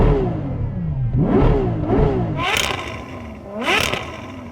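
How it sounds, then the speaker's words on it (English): A Ferrari's engine is revved hard several times close up, each blip climbing to a loud roar and falling back to idle, with a sharper high-pitched scream on the last two. "I'm going to rev up the Ferrari first."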